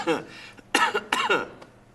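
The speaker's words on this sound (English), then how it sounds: "Let me hear you cough." A person coughs several times in short, close bursts, with a brief voiced sound between them.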